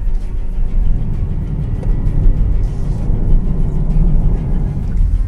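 Hyundai Ioniq 6 electric sedan accelerating in sport mode, heard as a steady low road rumble and whir from inside the car, continuous and fairly loud throughout with no talking.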